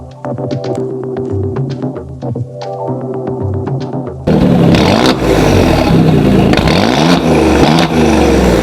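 Alfa Romeo Giulia QV with a Ferrari-sourced 2.9-litre twin-turbo V6 of over 500 horsepower, revving loudly and close, a steadier throbbing engine note stepping up to a fuller, harsher roar midway with rising rev sweeps.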